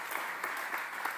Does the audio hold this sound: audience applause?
yes